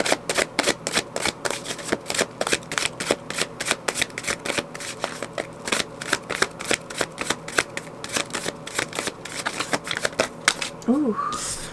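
Tarot cards are shuffled close up in a long run of rapid, crisp riffling flutters, ending with a brief voice near the end.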